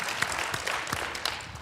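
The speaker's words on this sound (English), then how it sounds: "You deserve a round of applause." Audience at an awards ceremony clapping, a short burst of scattered, distinct hand claps from a modest crowd, fairly close and slightly uneven.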